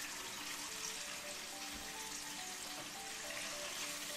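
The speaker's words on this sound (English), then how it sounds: "Everyone wants to hear that sizzle." Chicken frying on a stove for a KFC-style dinner box gives off a steady, dense sizzle and crackle, continuous and moderately close with a few faint tonal sounds underneath.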